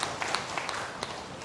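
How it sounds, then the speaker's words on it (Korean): A church congregation claps together during a Sunday service, a soft, steady patter of many hands heard at a distance with a few sharper claps poking through. "박수로 하나님께 영광 돌려드립니다"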